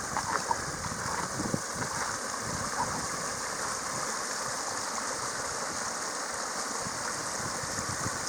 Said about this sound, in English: Water comes draining out of that forest over there